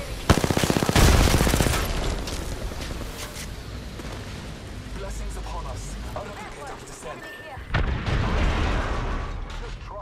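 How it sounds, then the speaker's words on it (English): Rapid automatic gunfire in Apex Legends, a loud opening burst followed by sustained dense shooting and impacts, then another loud burst near the end, with a voice talking over the fighting. "Shots on me."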